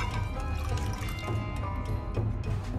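Water streams steadily from a cup into a bowl of yogurt in a home kitchen, a continuous close pour with a splashing, gurgling texture and no talk over it.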